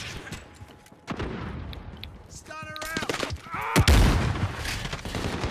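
Gunshots in Call of Duty: Modern Warfare, scattered sharp cracks leading to a loud booming shot near the end, with a brief whistling game tone and a voice talking in between.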